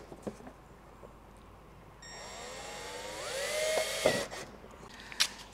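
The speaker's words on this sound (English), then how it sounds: "So go ahead and drill out all your templates on both" A power drill whines into metal of a 2022 Jeep Wrangler Unlimited frame through base plate templates for a couple of seconds, its pitch shifting as it bites, with a few clicks and knocks before and after.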